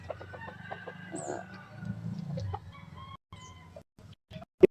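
Hens cluck and fowl call together in a backyard scratching pen, with a brief high crow-like cry rising above steady low clucking before the flock thins into sparse, scattered calls and a sharp close knock at the end.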